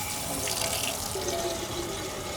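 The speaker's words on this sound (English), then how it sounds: "The water hits the metal inside with a dull splash." Tap water runs steadily into a metal kettle held under the faucet, a continuous close splashing and hissing pour with no pauses, heard on its own without voices.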